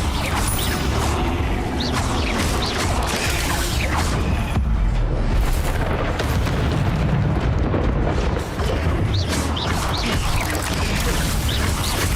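An Incendio fire spell goes off during combat in Hogwarts Legacy, bringing a dense run of fiery bursts, booms and crashing impacts that stay loud for the whole stretch. Mechanical clatter fills the gaps, with no talking.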